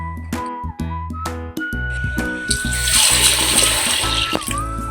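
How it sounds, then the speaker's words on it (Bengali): Water runs from a tap while freshly cut fish are rinsed, opening with a few close clinks and splashes before a loud, steady gush pours out. "মাছগুলো কাটার পর আমি আরো কয়েকবার অফ ক্যামেরা ভালো করে ধুয়ে নিচ্ছি।"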